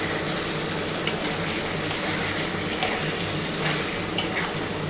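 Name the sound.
potato and pointed gourd sautéed with spices, stirring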